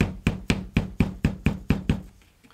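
Broken plastic dead blow hammer tapping on an RV part, about eight even, sharp knocks at roughly half-second intervals, close and fairly loud, the last blows growing fainter.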